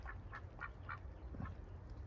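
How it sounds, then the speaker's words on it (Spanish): Live Pekin ducks give five quick, faint quacks in a loose rhythm over a low background hum, with no one talking. "Aquí están los patos vivos y coleando."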